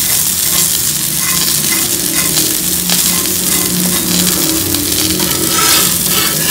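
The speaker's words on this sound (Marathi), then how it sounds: "फ्लेम मिडियमच ठेवायची आहे, म्हणजे हे छान फ्राय होतात आणि आतमध्येपर्यंत शिजतात छान" Surmai (kingfish) pieces shallow-fry in a pan over a medium flame, giving a loud, dense, unbroken sizzle. Faint stirring or shifting noises sit under the crackle throughout.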